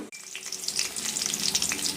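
Hot sesame oil sizzling steadily in a kadai as mustard seeds crackle and pop, a dense continuous spluttering heard up close with no voices.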